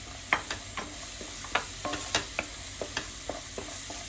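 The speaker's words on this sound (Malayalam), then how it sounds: "ഇനി നന്നായിട്ട് മിക്സ് ആക്കാം." A spoon stirs soaked masala into chana in a hot pan for a Mumbai-style chana chaat. The low sizzle is punctuated by a regular series of crisp scraping knocks, about three per second.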